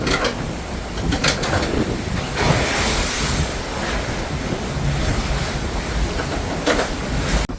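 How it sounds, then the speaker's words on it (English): Strong wind buffeting the microphone over deep ocean waves, heard from the deck of the P&O Arcadia cruise ship at sea. A continuous, loud roar of wind and surf runs throughout with no speech. "It's still very windy. Look at the waves. They're really deep waves."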